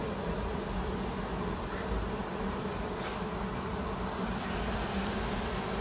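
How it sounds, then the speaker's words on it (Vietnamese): Honeybees crawl in dense masses over hive frames, making a continuous close buzzing hum with no pauses or talk. "mọi người nhìn thấy con ong nó bò lúc nhúc cả này"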